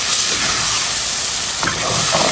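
Shrimp sizzling in a pot with tomato, a steady loud hiss of frying that holds throughout, with brief bubbling bursts toward the end.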